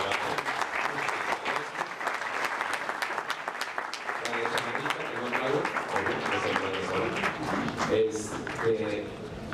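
An audience at a Spanish-language event claps steadily for several seconds, a fairly quiet, even wash of applause with some voices audible underneath toward the end.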